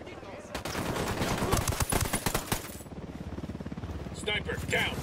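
Automatic gunfire from a Ghost Recon Wildlands firefight rattles in dense, rapid bursts, with a military helicopter's rotor thrum under shouted voices; the firing thins after a few seconds into sporadic pops.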